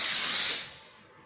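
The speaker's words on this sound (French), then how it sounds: "on repasse un coup de vapeur pour enlever les petites traces de colle résiduelles éventuelles." A steam cleaner hisses loudly while lifting glue residue left behind by removed tinted window film, a short close burst that quickly tails off.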